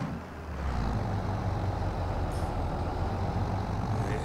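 A tractor engine in a farming video game labours under load, a steady loud low-pitched drone with heavy rumble that holds continuously after a brief quieter start, with no talk over it.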